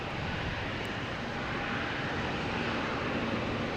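Delta A321 airliner arriving at Boston Logan, a steady broadband engine roar filling the whole clip, fairly distant and constant in level.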